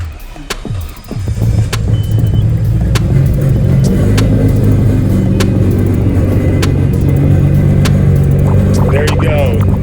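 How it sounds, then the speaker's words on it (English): A Nissan Skyline R32 GT-R engine cranks and catches, then settles into a loud, deep, steady idle rumble with sharp ticking clicks, voices faintly mixed in. "Fire it up so you can hear what it sounds like."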